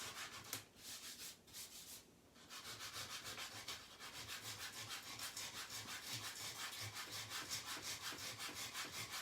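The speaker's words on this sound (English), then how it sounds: "And you can even sand like areas of the surface" Steady back-and-forth sanding of a painted wood surface, working down through layers of old paint to bare wood; a brief pause early on, then an even, continuous rhythmic rasp of strokes up close.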